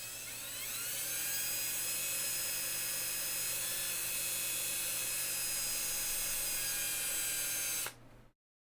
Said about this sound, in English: So I got my drill on speed 2